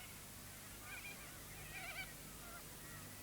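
Cockatoos in the farmland around Three Springs, Australia, calling in a few harsh, honking squawks at a distance over a steady background hiss, with no talk.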